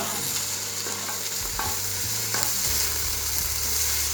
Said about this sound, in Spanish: Entonces, ya se empiezan a caramelizar, a dorar.